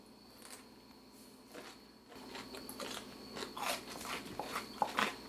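Crisp bites into a homemade bread and butter refrigerator pickle: after a quiet start, a run of close, sharp crunches and chews crackles irregularly for several seconds, with no talking.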